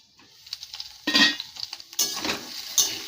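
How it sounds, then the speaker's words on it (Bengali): Eggplant and potato frying with five-spice seasoning in a pan, heard as a sparse clatter of a utensil scraping and knocking the pan over a light sizzle, close and without talk. "এই যে বেগুন আলুটাকে একটু 5 ফোড়ন দিয়ে বেশ ভাজা ভাজা করে দিচ্ছি।"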